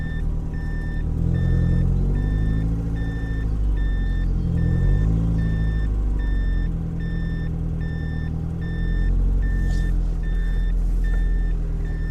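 A car reverse-parking in a shopping mall garage, with a steady beeping reversing alarm repeating at an even rhythm over a continuous low engine rumble, close and fairly loud.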